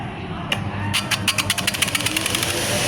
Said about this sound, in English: let's start using the disc sander. Got a green button at the back, we press that to get it started.